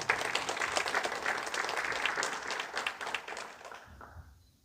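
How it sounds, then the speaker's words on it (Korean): Audience applause at a senior jobs seminar in a convention hall, given for the foundation chairman. Brisk, dense clapping holds steady, then thins and fades out near the end. "이범원 이사장님께 다시 한번 큰 박수 부탁드리겠습니다."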